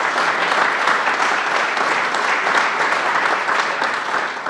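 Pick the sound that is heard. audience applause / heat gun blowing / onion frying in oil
audience applause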